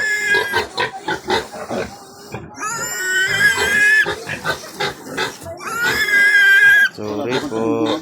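Angry pig grunting and squealing in loud, harmonic bursts close by, repeated throughout with people's voices chattering in between.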